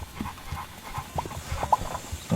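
A dog in the video game Mad City pants in quick, soft, rhythmic breaths, faint and close, with a few brief tonal blips from the game in the background.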